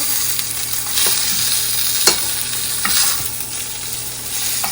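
Steady frying sizzle from pork ribs in a pan, with occasional sharp pops and crackles rising above the constant hiss.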